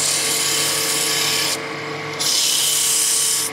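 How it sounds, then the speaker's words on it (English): A woodturning tool rides against a wooden letter opener spinning on a lathe, smoothing out rough tool marks with a loud, steady scraping hiss under a constant motor hum, briefly easing off mid-clip before resuming at full strength. "just smoothing out my rough tool marks"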